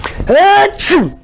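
A single loud, close sneeze bursts out in two quick parts, a sharp intake followed by the explosive release, on a French comedy TV programme.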